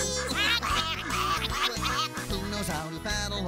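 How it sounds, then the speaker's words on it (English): Ducks quack repeatedly at a farm pond in a children's farm program, bright nasal calls in quick rhythmic runs over a steady musical backing. "listen to the duckies."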